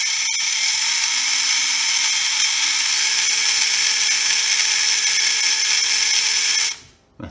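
A small RC crawler's motor whines at a steady high pitch under throttle for several seconds, with a faint rising tone from the steering, then cuts off abruptly near the end.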